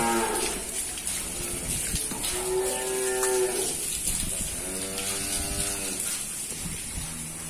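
Cattle, including Simmental bulls, low and moo repeatedly in a farm barn while being soaped and washed, with a steady hiss of running water or a machine underneath.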